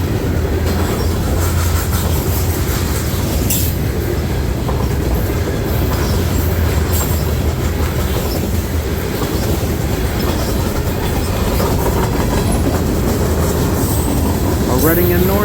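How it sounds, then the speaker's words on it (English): Freight train cars, including hoppers and a Kansas City Southern boxcar, rolling past on the NS D&H line with steady loud rumble, clickety-clack of wheels and occasional squeals, continuous and close throughout. "Kansas City Southern Boxcar making a rare appearance up here."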